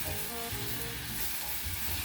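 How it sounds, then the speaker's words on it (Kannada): Unripe green tomatoes fry on a low flame for chutney, giving a soft, steady sizzle with faint crackles throughout this short moment. "ಮತ್ತೆ ಟೊಮೆಟೊಕಾಯಿ ಹಾಕಿ 3 ನಿಮಿಷ ಸಣ್ಣ ಉರಿಯಲ್ಲಿ ಹುರಿಯಬೇಕು."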